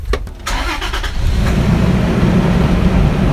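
A safari car on a drive in South Africa starts up with a few clicking cranks, then its engine catches and settles into a loud, steady rumble close by, with no talking.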